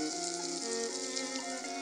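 A frying pan in the video game Florence gives off a soft, steady sizzling hiss that runs the whole time beneath gentle sustained music tones.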